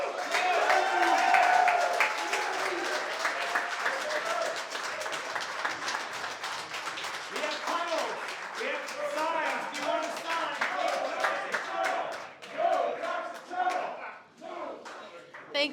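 Audience applause for the speakers at a regional event: dense, steady clapping that fades toward the end, with a voice speaking over it.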